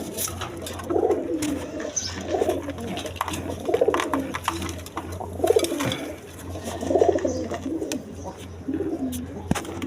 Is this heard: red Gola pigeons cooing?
yes